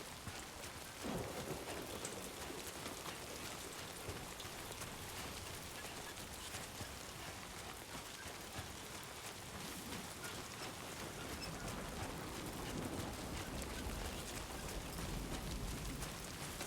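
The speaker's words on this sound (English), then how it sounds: "This rain is gonna suck." Rain in the video game Death Stranding 2 falls as a steady, soft, even hiss of drops throughout, faint and continuous with a low rumble in the background and no talking.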